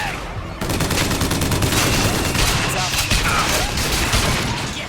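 BioShock Infinite's volley gun fires continuously in a loud, dense barrage of booming, crackling impacts after a short quiet opening, filling nearly five seconds with sustained combat noise.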